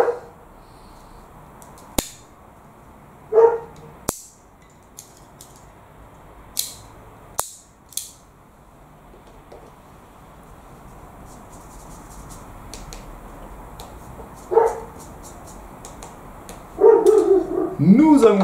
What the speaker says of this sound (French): Pardonnez-moi pour le chien du voisin.